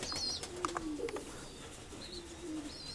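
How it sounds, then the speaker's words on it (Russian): Pigeons cooing on a rooftop, low soft coos repeating a few times against a steady outdoor background, with thin chirps from other birds above. "Все голуби"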